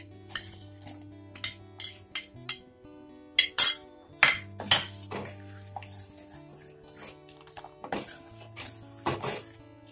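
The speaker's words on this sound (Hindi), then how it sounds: "अब हम इसमें मिक्स करेंगे ये साबुदाने जो हमने 2 घंटे पहले भिगो के रखे थे।" A spoon clinks and scrapes against a metal pot while soaked sabudana is stirred into thickened milk, with a run of sharp, uneven metallic taps that bunch up near the middle.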